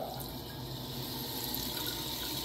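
Water runs from a tap at low pressure with no pump booster, a steady, even rush of flow that holds at a constant level for the whole stretch, close by and uninterrupted.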